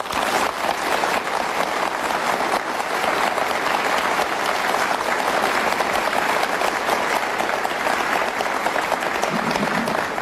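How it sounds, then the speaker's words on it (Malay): Sustained audience applause fills a hall during an evening special program honouring the Chief Minister of Sarawak, a dense, steady wash of many hands clapping at even loudness for about ten seconds, with no talk over it. "Kita berikan tepukan kepada Tan Sri."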